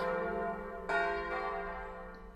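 Angelus church bells peal together in a full, resonant ringing, with a fresh strike partway through and the tones slowly fading, no voices.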